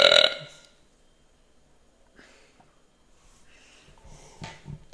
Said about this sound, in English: I don't mind the burps.